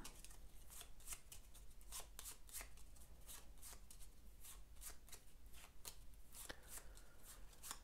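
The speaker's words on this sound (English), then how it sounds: "So, shuffle these up." Cards for the Glass Road board game are shuffled close up, a steady run of crisp riffling bursts repeating throughout, with no talk.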